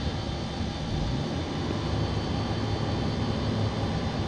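A Chevrolet Trailblazer engine idles in park at roughly 620 RPM, giving a steady, even broadband drone that holds at a constant level throughout, close and continuous with no talking.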